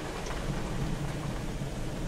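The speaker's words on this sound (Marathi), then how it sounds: "आपण पाहतोय पाऊस" Heavy monsoon downpour in Satara pours steadily, a dense continuous hiss of rain with a low rumbling undertone that could be wind or distant thunder, no voices.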